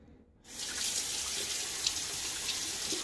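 A razor is rinsed under a running tap while shaving with a Gillette Sheraton, the faucet switching on suddenly and pouring in a steady, close stream with faint clinks of the razor beneath it.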